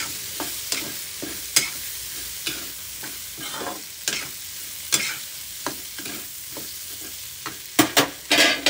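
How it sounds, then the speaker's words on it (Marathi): Cauliflower and peas stir-fry in a pan with a soft, steady sizzle, while a spatula scrapes and tosses the vegetables in regular strokes, close and clear with no talking. "अजून थोडं याला मी परतून घेते."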